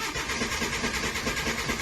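A Mitsubishi Lancer with a hard-starting fault cranks and runs on a cold morning, a steady close engine drone with a fast, even pulsing rhythm.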